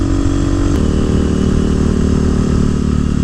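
A 2018 Husqvarna 701 Supermoto single-cylinder motorcycle engine runs steadily up close, a loud continuous throb with a slight shift in pitch partway through and no voices.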